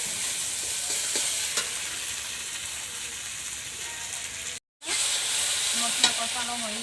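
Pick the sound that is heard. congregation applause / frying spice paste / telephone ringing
frying spice paste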